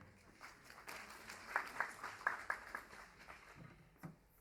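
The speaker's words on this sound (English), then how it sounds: "A round of applause to her." A conference audience gives a round of applause, heard as faint, scattered clapping that swells and fades over a few seconds, with some voices mixed in.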